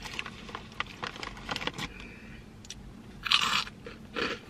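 Nacho-flavored chickpea snack being bitten and chewed up close, with repeated sharp crunches in an irregular rhythm, a quieter pause midway, then two louder crunching bursts near the end.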